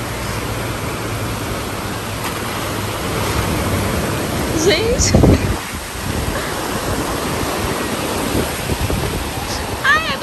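Ocean waves breaking and washing at a beach with cold water, a steady surf roar with wind under it, while people talk and shout excitedly over the water.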